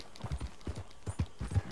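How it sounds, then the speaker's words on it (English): Horse hooves galloping on a muddy off-road track in a video game, a steady close rhythm of soft thudding footfalls, moderately faint. "this horse is basically what I mostly used as Arthur"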